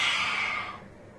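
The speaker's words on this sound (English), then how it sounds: "Take a deep breath and look up. Breathe out, stick your tongue out." A forceful exhale with the tongue out during a yoga stretch done on all fours, a single breathy rush of air that is loud at first and fades away within about a second, close and alone.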